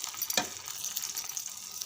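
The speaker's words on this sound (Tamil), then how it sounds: "இதில் இருக்கிற எண்ணெயிலே நல்லா வந்து வறுத்து பாருங்கள்" Parotta frying in oil on a pan over low heat gives a steady, close sizzle with a brief louder crackle near the start.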